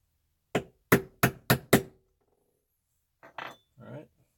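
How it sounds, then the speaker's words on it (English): A hammer striking a flat punch while replacing a 6.5 Grendel rifle extractor: five crisp metallic taps in quick succession, followed by a few softer handling clinks and brief rustle. "Take another flat punch here."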